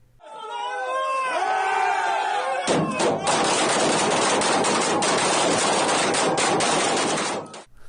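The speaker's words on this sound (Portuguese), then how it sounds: "Essa cena poderia ser apenas treinamento no estande de tiro." Rapid bursts of gunfire crackle loudly and continuously, like a machine gun at a range, following shouting voices at the start.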